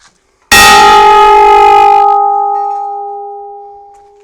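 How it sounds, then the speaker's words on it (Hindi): An old bell at the entrance of Banasur fort in Bayana, Rajasthan, is struck once, giving a loud metallic clang that settles into a long, steady ringing tone and slowly fades. "ये है यहाँ की घंटी, बेल, इसको बजा कर के अंदर जाते थे उस जमाने में।"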